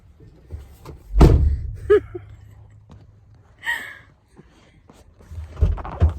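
A door slammed shut hard in a home, a heavy thud with a low boom, followed by lighter knocks and rattles, with faint household movement and brief voices around it.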